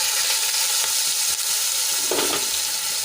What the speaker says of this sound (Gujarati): અને અડધી મિનિટ માટે એને આપણે સાંતળી લઈશું